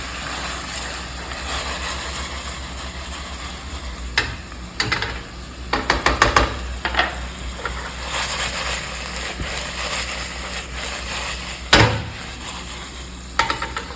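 Ingredients for a creamy chicken dish stirred in a hot pan over a steady sizzle, with bursts of scraping clatter from the spoon against the pan and a sharp knock near the end, close and fairly loud with no talking.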